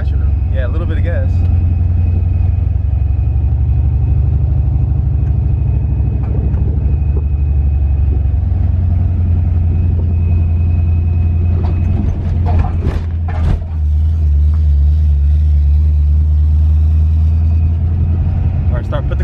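A supercharged Fox Body Mustang creeps along in first gear, its engine a steady low rumble inside the cabin with mechanical clunks and rattles, while people talk over it.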